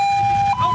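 An ambulance siren sounds as a loud, steady, close tone throughout a brief moment with no speech.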